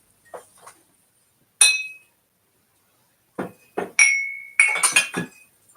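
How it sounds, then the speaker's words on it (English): Pieces of carnival glass clink and ring bright while being handled, a few isolated chimes followed by a cluster of overlapping clinks, near and clear against silence. "And here's another piece of carnival glass"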